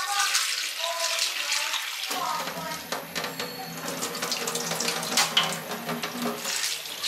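Tap water runs into a sink as a popcorn pot is rinsed, a steady splashing stream that starts a couple of seconds in and carries on, with faint talking over it.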